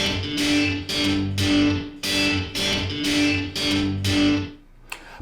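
An electric guitar through an amp, mic'd from a distance so the room colours the sound, playing loud, overdriven strummed chords in repeating bursts that ring into the space before a brief final stab.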